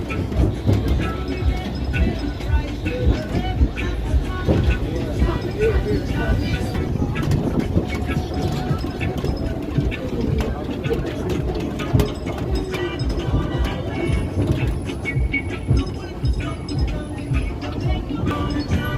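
Ride on an open tram at CocoCay, a steady rumbling, rattling roll with bumps and clatter throughout, while people talk over it.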